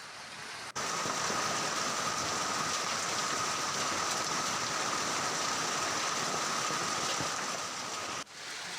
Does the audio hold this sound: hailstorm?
yes